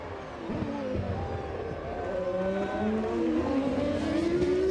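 Formula 1 cars, a McLaren Mercedes and a Stewart Ford, race down a straight at the 1999 French Grand Prix. Their engines whine and rise in pitch, with a commentator talking over the roar.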